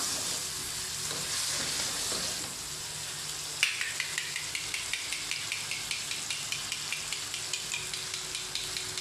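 Aloo gosht with whisked yogurt and potatoes sizzling in a pan, a steady frying hiss joined by a regular series of spoon scrapes and taps as the mixture is stirred, close and moderately loud with no talk.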